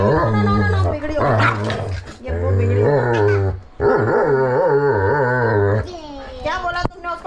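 Dogs snarl, growl and yap in close, loud bursts, with whimpering yips between them during a strong storm with heavy wind and rain at a home.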